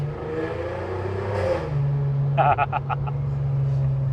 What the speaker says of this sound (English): it's definitely got more of a loud rasp than mine